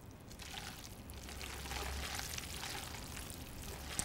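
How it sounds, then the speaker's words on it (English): Thick, gooey lemon pasta sauce poured into a bowl, a soft, faint, steady pouring sound lasting a few seconds with no talk. "I'm leaving some sauce back because I want to pour some on once it's in the bowl."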